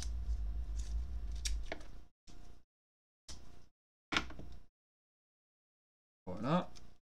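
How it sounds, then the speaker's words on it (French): Short, crisp scraping cuts from a utility knife working on an iPhone 6s logic board during a chip swap, close and quiet, several separate strokes broken by silent gaps after a muffled handling noise. "Un petit coup de cutter. Parfait, pareil de l'autre côté."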